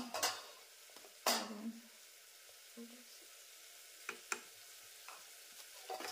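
Butter sizzling as it melts into dal fry, a quiet, steady frying hiss broken by a few sharp clinks and scrapes of stirring, with no voices.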